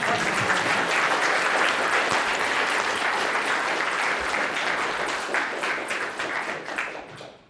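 Audience applause at a Python programming conference talk, a dense, steady wash of many hands clapping that holds loud for most of its length before thinning and fading toward the end.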